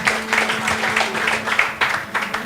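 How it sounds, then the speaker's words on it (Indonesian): Audience applause at an Indonesian religious debate between a pastor and a convert, steady clapping from a crowd filling the room throughout. "Sekali lagi tepuk tangan biar tambah semangat"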